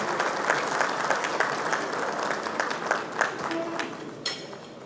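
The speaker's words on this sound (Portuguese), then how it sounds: "Uma salva de palmas, obrigado, Gustavo." An audience at an executive board meeting applauds a mayor being acknowledged, loud sustained clapping from a crowd with faint voices mixed in, tapering near the end.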